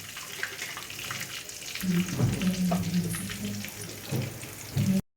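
Asafoetida, dried red chillies and fenugreek fry in hot oil, a close, busy sizzle with crackling bursts and a brief voice-like tone over it, ending abruptly.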